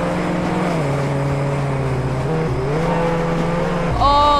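A car engine in the Roblox game Jailbreak drones steadily while driving, its pitch shifting as it speeds up and slows, ending with a sharper rising surge; loud and continuous.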